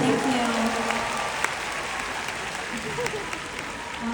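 A Cantopop concert crowd at the Hong Kong Coliseum applauds in a sustained, even wash of clapping filling the arena, with a voice talking over it.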